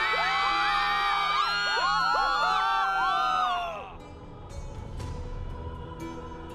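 A crowd in the Honkai: Star Rail video game cheers and whoops with many rising and falling voices, loud and close, then abruptly drops away into a low murmur after a few seconds.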